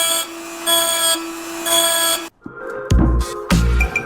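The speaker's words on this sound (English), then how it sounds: "Carefully pull it out and drill it." A small power drill bores into a piece of a lighter with a high whining motor in short start-stop bursts, then a brief pause followed by louder, rougher grinding and scraping at close range.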